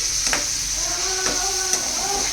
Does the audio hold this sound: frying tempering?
yes